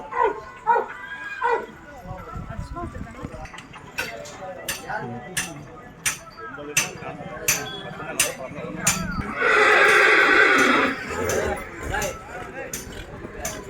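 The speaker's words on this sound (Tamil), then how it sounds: "பெரிய குதிரைகள் பார்த்தோம்னா" Native horses at a temple festival horse fair in Vijayamangalam, with whinnies and snorts among sharp barking dogs and busy crowd voices, one louder burst of noise in the middle.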